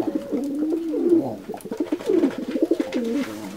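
A pet pigeon-like bird gives repeated low, throaty coos in close, rolling phrases, loud and near, with a brief pause midway before the cooing resumes.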